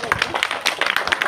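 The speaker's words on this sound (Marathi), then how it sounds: "टाळ्या जरा जोरात होऊ देत." Audience members at a women's gathering marking Ambedkar Jayanti on 14 April clap in quick, uneven bursts of close, sharp hand claps filling the short moment.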